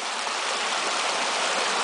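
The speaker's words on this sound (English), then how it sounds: "As you can see, the water really pumps through here with the pool effects." Brook trout stream water rushing through restored pools, a steady broadband flowing roar with no pauses, close and fairly loud, nothing else heard over it.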